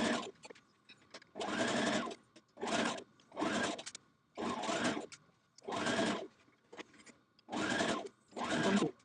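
A sewing machine stitches a Vogue 1236 misses' dress, running in repeated short bursts of about half a second to a second with brief pauses between, close and clear with no talking.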